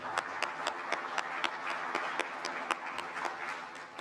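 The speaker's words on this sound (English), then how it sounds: "a big applause to our speakers, Antonios and Sari" A small conference audience gives sparse, even applause for the speakers, individual claps distinct and regular, moderately loud in a quiet room with no talking.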